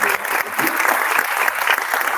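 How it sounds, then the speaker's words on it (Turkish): An audience at an event featuring magician Dr. Kevin Spencer breaks into dense, steady applause, many hands clapping together at close range for a couple of seconds without pause. "Alkışlarınızı onu da"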